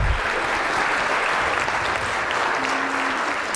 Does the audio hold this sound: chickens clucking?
no